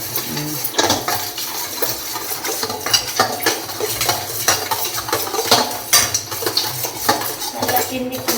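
Rice being dry-roasted in a pan is stirred steadily, with a metal spoon clinking and scraping against the pan in quick, close, irregular strokes and a faint sizzle underneath.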